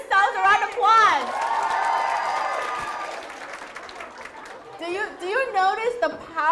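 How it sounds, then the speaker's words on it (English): An audience at an inspirational evening event in London bursts into loud applause that swells into a sustained roar with cheering and crowd noise, while a speaker's voice talks over the start and end. "Give yourselves a round of applause."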